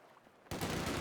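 Gunfire in a Company of Heroes 2 match as a rifle squad engages pioneers, a quiet stretch then an abrupt burst of sustained shooting that stays loud and dense to the end.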